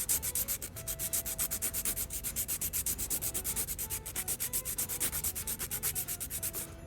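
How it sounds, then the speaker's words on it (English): Builder gel nails are hand filed with quick, even back-and-forth rasping strokes, close and steady throughout, with no talking. "I just feel like hand filing this is just a lot easier, so that's why I'm going with the hand filing method right now."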